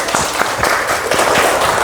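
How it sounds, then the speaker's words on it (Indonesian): Pupils in a classroom clap for a classmate, a short burst of close, rhythmic group clapping with distinct beats. "Tepuk tangan buat Akmal."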